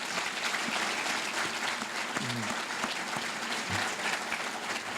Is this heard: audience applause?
yes